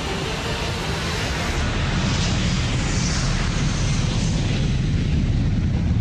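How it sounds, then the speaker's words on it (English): A Malaysia Airlines passenger jet, Flight 370, takes off from the runway at night with a loud, steady, broadband engine roar that holds constant throughout. "Malaysia Airlines Flight 370 leaves the runway"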